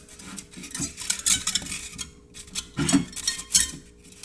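A hot wire cutter slicing through XPS foam while crafting a tabletop Star Wars Legion bunker, giving scratchy, crackling bursts that rise and fall in uneven strokes, close and fairly clear.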